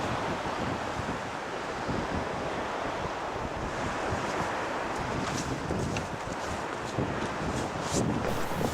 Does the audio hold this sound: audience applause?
no